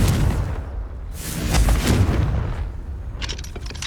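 A fiery blast spell cast in the wizarding game Hogwarts Legacy sounds as a heavy booming explosion with a rumbling low roar, followed by crackling debris and sparkling high flickers near the end.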